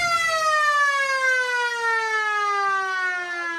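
A football ground's game siren sounds at full time of a country football match, a loud, sustained wail with a steady tone that slowly drops in pitch, sounding alone without any talk.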